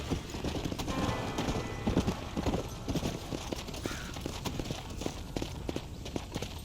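Horse hooves clip-clopping at a walk in the Red Dead Redemption game, a steady close rhythm of hoof strikes on hard ground with a faint whinny partway through.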